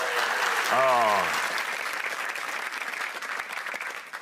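Audience applause during a trivia round, a steady wash of clapping from a room full of people, with a brief voice exclaiming over it near the start.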